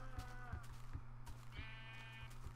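Minecraft sheep bleat repeatedly over a steady, low rhythmic game backdrop, the bleats clear and close, with no talking.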